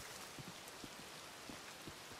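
Rain falling in the open-world western game Red Dead Redemption II: a soft, steady hiss of rainfall with scattered low patters, faint and continuous throughout.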